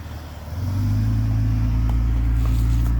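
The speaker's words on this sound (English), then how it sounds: "Another car right there." A car drives past on a road, its engine rumble swelling within the first second and then holding as a steady, close, low drone, with no talking.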